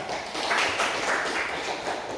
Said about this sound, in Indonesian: Tepuk tangan dulu Devita